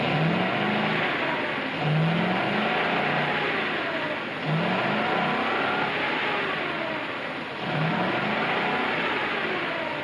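An old truck engine with a loose distributor wire runs continuously with a rough, wheezy tone, its revs swelling and easing in a repeating cycle, loud and steady with no voices.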